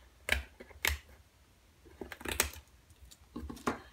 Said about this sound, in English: I'm just gonna come in with the scissors again and cut the little white part out